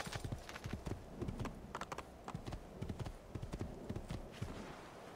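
Rapid clip-clop of horse hooves in the video game Assassin's Creed 2, a steady trotting rhythm, close and fairly faint, continuing throughout without talking.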